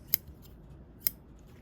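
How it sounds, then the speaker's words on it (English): Large metal scissors snip twice, two crisp, close cuts about a second apart against a quiet background. "let me get my bigger scissors and get that for you."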